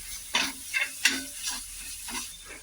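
A spoon stirs and scrapes a spiced vegetable mixture with coriander for masala pav in a pan, giving about six distinct scraping strokes over a gentle sizzle.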